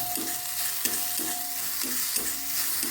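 Onions fry lightly in a pan with a soft constant sizzle, while a spoon stirs and scrapes in a slow regular rhythm about every half second, close up and fairly quiet, with no one speaking.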